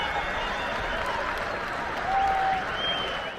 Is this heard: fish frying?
no